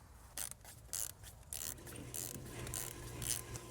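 Short ratchet wrench clicks in separate bursts while bolts are loosened on a Mercedes-Benz W166 ML350 engine, close and fairly quiet, followed by a steadier mechanical rattle with no talking.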